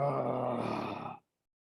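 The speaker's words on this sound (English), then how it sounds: "on this last one, you make that exhale, make a sound with it, something to give it some energy" A group of people exhales loudly together, voicing a sustained groan-like moan for just over a second before it stops abruptly into silence.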